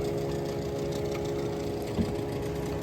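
A twin-engine boat idles with a steady, low mechanical rumble and hum, with no voices, holding constant throughout.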